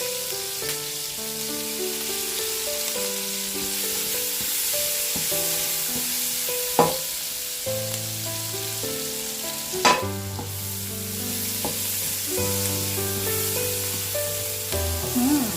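Garlic frying in a pan with onion for Filipino pancit guisado, a steady close sizzle and crackle lasting throughout, with a few clinks of stirring and no talking.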